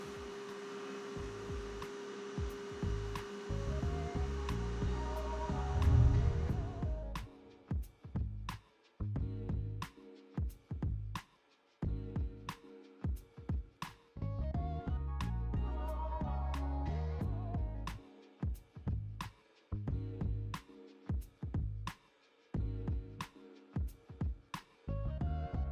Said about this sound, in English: we're gonna take it over to the sander